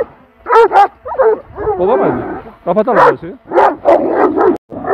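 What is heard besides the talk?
dogs barking and fighting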